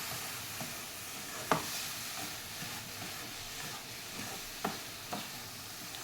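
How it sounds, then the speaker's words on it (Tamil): A rava laddu mixture of semolina and milk is stirred in a pan, with faint steady sizzling and hiss broken by a few sharp spoon scrapes against the pan. "கொஞ்ச நேரம் அப்படியே கிளறினே இருக்கலாம்."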